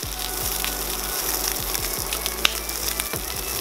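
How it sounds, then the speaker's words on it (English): Salmon fillet frying skin side down in a smoking-hot pan, a steady loud sizzle with crackling spits and pops throughout, alone with no talk. "This fish is going to cook the entire time,"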